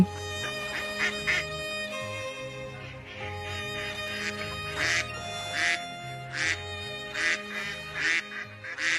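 Several cartoon ducks quack repeatedly in short bursts, fairly close, over a soft background tone.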